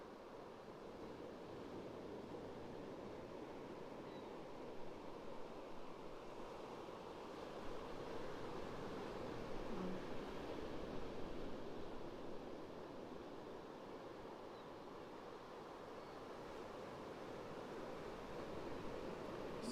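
Steady ocean surf rolls in as high tide comes up at Pawleys Island around sunrise, a continuous broad wash of breaking waves with light wind noise across the microphone and no voices.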